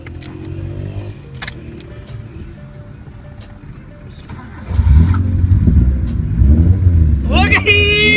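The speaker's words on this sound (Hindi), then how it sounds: "तो यार फाइनली गाड़ी स्टार्ट हो गई" An old, cheap project car's engine cranks and catches after its spark plugs were cleaned, then rumbles and revs loudly up close, with voices talking over it near the start and end.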